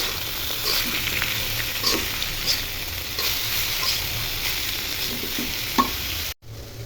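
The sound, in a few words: frying boiled bottle gourd and pointed gourd peels with onion and garlic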